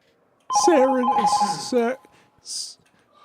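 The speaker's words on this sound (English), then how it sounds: "then the phone rings. Someone's calling you." A telephone rings in a cubicle office at a tabletop game session, its warbling electronic tone sounding in two bursts with a short gap, with hissy noise around them.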